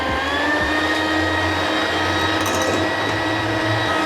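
An electric mixer whips egg whites into foam for a hurricane roll cake and vanilla sponge, giving a steady, continuous motor whine with no break and no speech.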